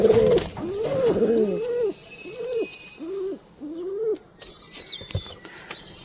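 A series of soft, rounded satin pigeon coos repeats at a steady pace, each call brief and close, with faint chirps from other birds in the background near the end.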